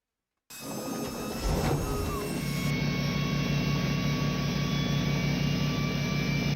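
Synthetic truck engine sound built for an American Truck Simulator mod, starting abruptly and rising into a steady, loud high-rev drone with whining harmonics that holds to the end.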